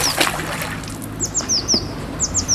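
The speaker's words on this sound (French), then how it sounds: "Donc je vais mettre la pompe dans l'eau" A pump is lowered into a garden pond, with a short splash and watery sloshing up close while birds chirp repeatedly in the background.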